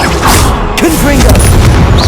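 A Confringo explosive spell blast in Hogwarts Legacy, a loud close boom amid crashing game effects and clattering mechanisms, with voices mixed into the busy fight.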